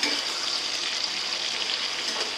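Onion and tomato sautéing in oil for a fish curry, a steady dense sizzle with faint stirring, close and continuous, with no voices.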